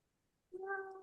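A single drawn-out meow from a cat, close and clear, starts after a short quiet pause and holds a steady tone until the end, with nobody speaking.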